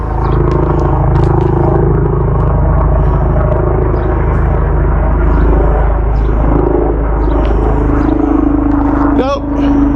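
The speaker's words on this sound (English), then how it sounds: "Looks like some kind of military helicopter." A military helicopter flying overhead makes a continuous, heavy low rumble that stays loud and steady throughout, with a voice briefly audible over it.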